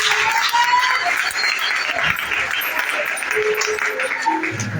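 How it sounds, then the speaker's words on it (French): An audience in a church gathering claps for a translator, a dense, steady wash of applause from many hands filling the room, with voices mixed in underneath. "Acclamons pour le traducteur"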